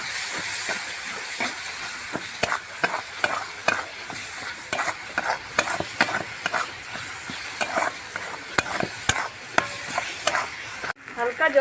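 Elephant foot yam fritters fry in hot oil with a steady, close sizzle and hiss, broken by frequent sharp crackles and the clink of stirring, with no voices.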